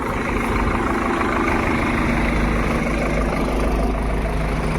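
A tractor's heavy diesel engine idles steadily nearby during a groundnut harvest, a continuous low rumble with a mechanical rattle, no voices over it.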